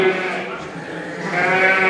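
A Rough Fell sheep bleats at a lamb sale in a drawn-out, wavering call, close and fairly loud, with a second rising bleat near the end.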